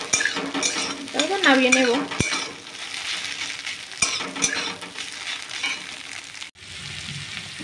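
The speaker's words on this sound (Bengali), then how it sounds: "এই তো ডিমটা এবার ভুজিয়া করে নিচ্ছি।" Beaten egg scrambling into bhujia in a hot pan sizzles steadily while a utensil scrapes and stirs, with brief clinks of metal and a short spoken phrase near the end.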